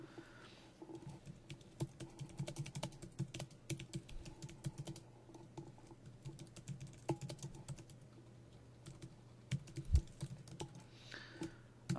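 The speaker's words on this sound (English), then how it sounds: "See if I can type appropriately and while I'm thinking at the same time." Keys clatter on a computer keyboard in steady bursts of fast typing with brief pauses, close but faint, with a low room hum beneath and no speech.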